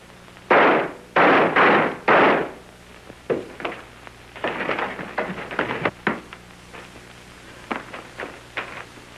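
Three loud sharp gunshots ring out in quick succession in a 1929 murder mystery film scene, followed by a scuffle of bumps, thuds and raised voices in an echoing interior.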